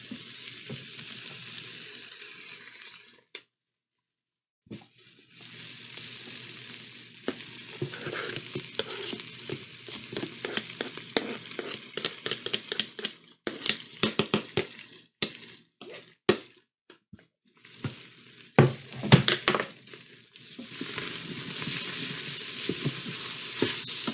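Garlic sizzling in a hot frying pan, a close, steady crackling hiss broken by a short silence and bursts of stirring clatter, with no one talking.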